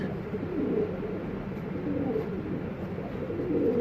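Arab pigeons squabbling on a rooftop, a steady low murmur of cooing and scuffling that runs throughout at moderate loudness with a few brief surges.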